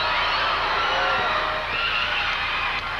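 Crowd noise fills a high school gym during the 1984 IHSA state championship basketball final in Chicago as a free throw is taken, a steady, moderately loud murmur and shouting with no clear peak.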